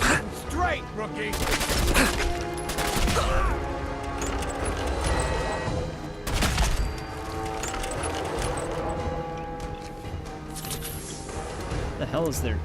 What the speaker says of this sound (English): the thing is legitimately shooting through walls